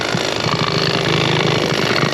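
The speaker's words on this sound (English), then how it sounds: "they're drilling away" Loud, close drilling machine boring a hole into the ground, a steady rough mechanical drone with rapid pulsing knocks and engine rumble throughout.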